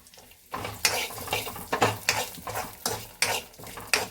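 Peanuts tossed in a pan clatter and rattle in quick, irregular bursts, fairly close and moderately loud, with a faint sizzle underneath and no talking.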